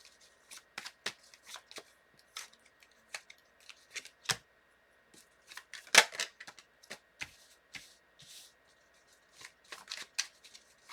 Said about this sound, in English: Let me lay out the cards here.